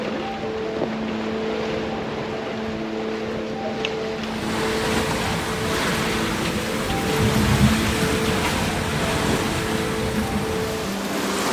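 Ocean waves wash and rush around a sailing boat offshore, a continuous broad roar with wind and steady engine-like hum beneath, swelling louder near the end, no talk.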